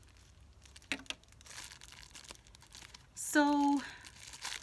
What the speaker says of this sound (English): let's just take off the plastic